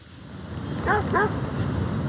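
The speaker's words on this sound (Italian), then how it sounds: "Questo è un cane buono" A dog in Watch Dogs 2 gives two quick yipping barks close up over a low steady game-ambience hum, with the rest of the moment quiet background.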